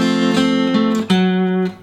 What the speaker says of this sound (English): George throws in this great little lead line